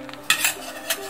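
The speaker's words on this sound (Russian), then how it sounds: "Помешиваю, чтобы не прилипало." Short pasta horns being stirred in a metal frying pan, a few clattering scrapes of a utensil against the pan over a faint sizzle, close and loud, with no voices.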